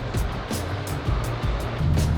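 A loud, continuous Porsche Cayman S exhaust drone with the valve open, deep low rumble and a few throttle surges, steady and close throughout.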